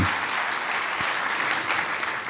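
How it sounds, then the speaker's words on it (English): An audience claps at a SUNY Oswego State of the University speech, a dense, even round of applause from a large crowd lasting a couple of seconds without voices. "Let's give Austin a warm round of applause for that wonderful, kind introduction."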